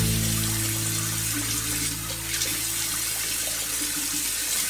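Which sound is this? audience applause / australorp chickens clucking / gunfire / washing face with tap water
washing face with tap water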